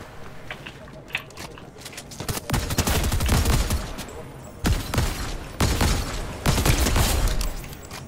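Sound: DMR rifle gunfire in Fortnite video game

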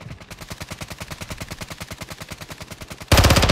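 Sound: gunfire in Call of Duty video game

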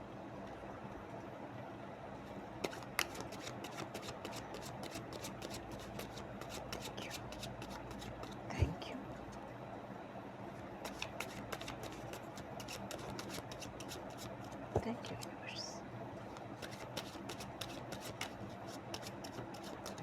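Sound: shuffling tarot cards for a reading

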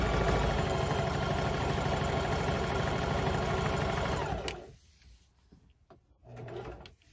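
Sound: sewing machine stitching with polyester thread and jeans needle

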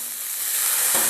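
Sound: water added to pan with chicken and pork, sizzling steam

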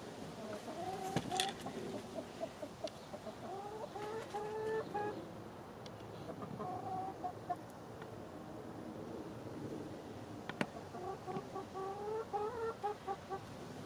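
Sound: chickens clucking

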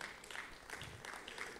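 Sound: audience applause

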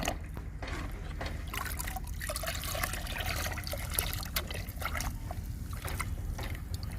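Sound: homemade liquid plant fertilizer being mixed

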